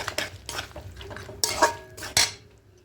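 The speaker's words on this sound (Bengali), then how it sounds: "এবার খুব ভালো করে মিশিয়ে নেব" A utensil stirs sour curd into tomato chicken in a metal pan, several distinct scraping and clinking strokes against the pan with a faint sizzle underneath, close and clear with no voices.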